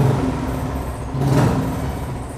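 A 2008–2009 single-owner Royal Enfield Thunderbird motorcycle engine starts with a burst partway through, then settles into a loud, steady low rumble close by.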